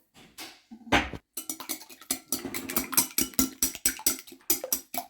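Egg yolks with a pinch of salt whisked briskly in a bowl, a rapid run of close, uneven clinking strikes against the bowl after a couple of louder opening knocks.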